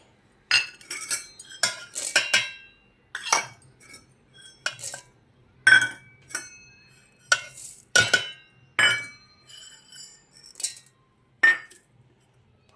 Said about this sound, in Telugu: ఇప్పుడు ఒక్కొక్క సీడ్స్ని దీంట్లో మిక్సీ జార్లో వేసేసుకోవాలి.